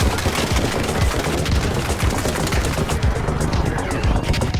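Bettina weapon firing in a video game, a loud, dense burst of rapid gunshots running continuously without a break, close and alone with no talk.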